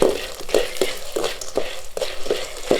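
Sundakkai vathal, sun-dried turkey berries, fry and bubble in hot oil, with a rhythmic series of stirring scrapes and sizzling bursts close up, roughly every half second.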